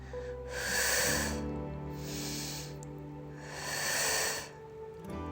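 Long, forceful exhaled breaths during a full-body workout exercise, two drawn-out airy rushes close to the microphone with a steady hum underneath.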